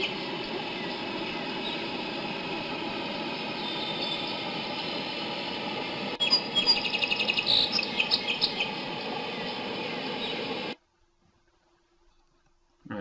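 A looping bird song recording plays in a presentation, steady chirping and tweeting for about ten seconds with a brief crackle of clicks midway, then cuts off to near silence.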